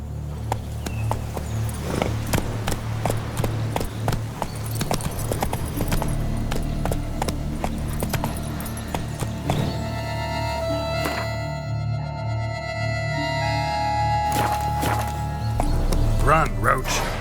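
Roach, the horse in The Witcher 3: Wild Hunt, galloping in the game with rapid rhythmic hoofbeats against game music and ambience, loud and close throughout.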